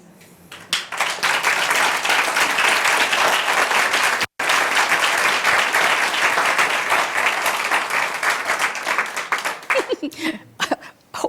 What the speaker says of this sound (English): Oh, I didn't know that was going to get applause